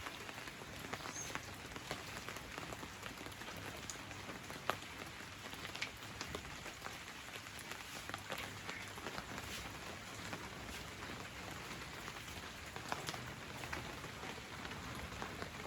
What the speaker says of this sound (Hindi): माशाल्लाह बारिश हो रही है